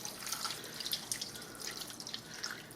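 Beef broth poured into a crockpot for a cubed steak meal, a steady liquid trickle with small splashes and drips, fairly quiet and heard alone.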